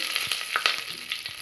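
Garlic frying in hot oil with curry leaves, red chillies and mustard seeds in a tempering for Sundakkai vathal kuzhambu: brief close sizzling with a few sharp crackles and light stirring.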